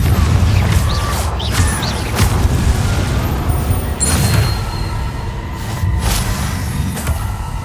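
The Confringo blasting spell in Hogwarts Legacy erupts in booming, crashing impacts amid a heavy rumbling game soundscape, with sharp whooshes and bursts repeating over several seconds.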